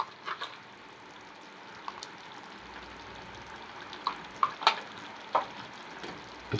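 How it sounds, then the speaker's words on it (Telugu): Salt being stirred into green chilli paste for a bottle gourd curry, a soft continuous scraping with a few brief clinks near the end, steady and close. "ఉప్పు వేసి ఇలా కలుపుకుందాం"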